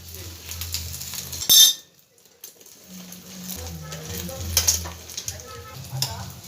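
Egg roll with a double-egg layer and flatbread frying in a pan, soft sizzle with clinks of a utensil against the pan, quiet and close, with pauses between sounds.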